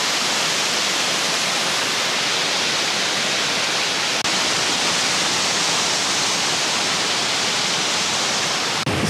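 A waterfall in the Brecon Beacons roars close and loud, a dense continuous rush of falling water that stays steady throughout.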